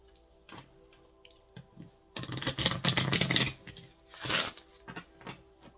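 A deck of cards is riffled in a rapid flutter of clicks, then a second shorter riffle follows, with quieter taps before and after.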